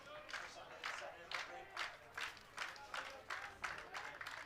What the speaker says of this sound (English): Crowd starting to clap their hands, hoping their guys can finally stop the damage